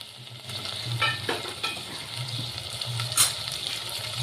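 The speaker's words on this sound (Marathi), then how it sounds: "हे कांदे आता सगळे कांदे यामध्ये टाकायचे आपल्याला." Sliced onions sizzling in hot oil in a pan for a spicy khakas vegetable dish, a steady close frying hiss with a few stirring scrapes and no talk.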